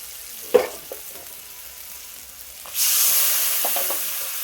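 Spice masala with turmeric and a splash of water frying in oil in a pan, starting with a few soft taps and light crackle, then a loud steady sizzle that swells and holds for the last seconds.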